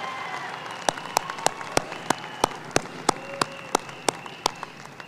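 A graduation convocation crowd for the 2026 School of Aviation class claps in a steady, rhythmic series of sharp individual claps over a broad background hiss, moderately loud throughout.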